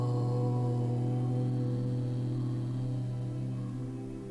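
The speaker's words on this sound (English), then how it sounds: "Chanting Om is very simple." A single person chants the syllable Om in one long, steady, droning tone that holds for several seconds with a gentle hum, moderately quiet and close, tapering slightly at the end.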